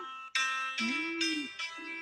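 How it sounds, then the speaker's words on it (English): A few short keyboard notes ring out one after another, bright and thin, played softly at close range. "let me get my little piano so I can give us some keys"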